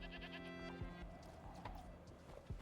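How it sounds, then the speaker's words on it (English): Goat bleating in the video game Wuthering Waves, a few short bleats over game music and background sound, fairly faint and close. "The goat."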